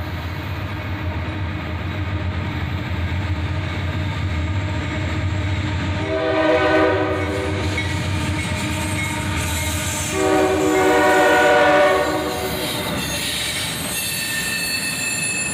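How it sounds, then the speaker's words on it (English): An autorack freight train led by a pair of AC44CW locomotives, the trailing unit dirty, rolls past close by with a steady rumble, loud rising wheel squeals and clickety-clack of railcars throughout. "Another autorack train, led by a pair of AC-44 CWs, the trailing unit, in Y2 paint and very dirty."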